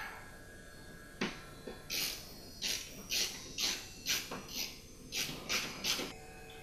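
A screw is driven into wood for a lumber storage rack, with about ten sharp, evenly spaced bursts of driver chatter and clicks close by, quiet and with no voices.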